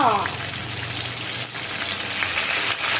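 Wet curry leaves and chillies hit hot oil for a rava upma and sizzle and crackle steadily, loud and close, with a voice talking over the frying.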